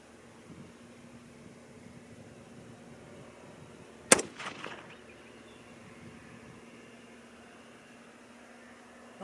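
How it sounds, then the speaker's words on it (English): A single rifle shot from a .224 Valkyrie or 6.5 Creedmoor load cracks out sharply at a shooting range, followed by a short rumbling echo over a quiet hum of background noise. "It's the first time I've shot these in this rifle"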